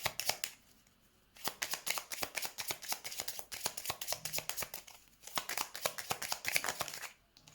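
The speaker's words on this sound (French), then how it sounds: "Je vais mettre la dernière carte." Tarot cards in a French love reading are handled and laid down on a table, giving quick crisp card-shuffling riffles in bursts separated by brief pauses, close and fairly quiet.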